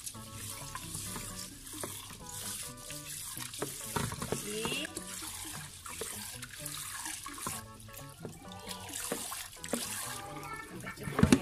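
Tap water runs into a bucket while rice is stirred and rinsed by hand, a quiet, irregular mix of splashing and sloshing with faint talk in the background.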